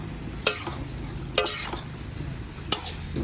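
Egg with bitter gourd frying in a hot pan, a continuous soft sizzle broken by three sharp scrapes of the spatula stirring against the pan, close and without speech.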